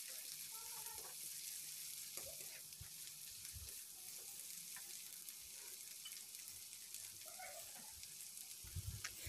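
Green beans and wood ear mushrooms stir-frying in a pan, a steady soft sizzle with occasional scrapes and stirring knocks and a faint voice now and then.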